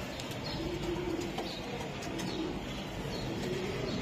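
Caged racing pigeons coo softly and steadily in a loft, with low murmuring calls and faint rustling and pecking close by and at moderate loudness.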